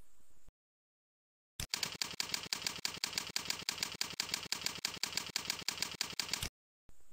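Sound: typing on a computer keyboard

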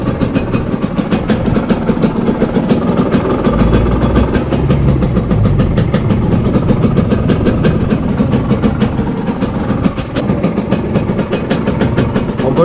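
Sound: KMX motorcycle engine running

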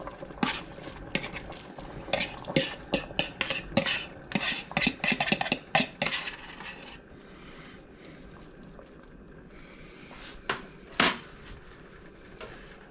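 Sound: adding sausage back into a pot of Zuppa Toscana, stirring

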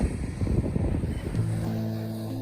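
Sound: sea waves

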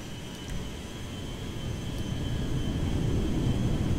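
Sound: aircraft taking off in GTA 5 video game

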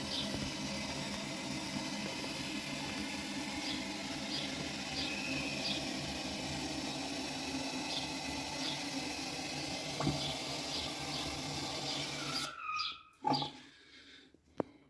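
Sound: toilet cistern refilling with water while testing the float valve

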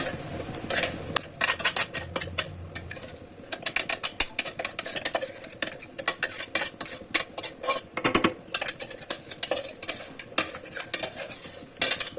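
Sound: stirring ginger-garlic-chili paste into the mixture

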